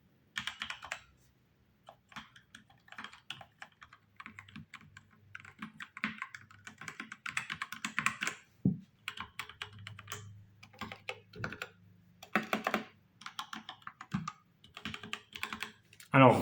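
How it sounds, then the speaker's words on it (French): Cooler Master CK530 V2 mechanical keyboard with red switches typing up close, irregular runs of clicky keystrokes with brief gaps, continuing for a long stretch. "c'est du son mécanique, bien sûr, mais c'est du switch rouge"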